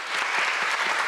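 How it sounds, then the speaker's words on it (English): Guests at a wedding solemnisation applaud the couple, a brief burst of dense, steady clapping from a gathered crowd. "Shall we all begin by giving a big round of applause to Caelan and Ivy?"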